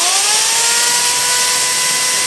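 A portable electric drill runs from a homemade 12-volt inverter, its steady, high-pitched electric whine continuous and loud throughout at constant speed.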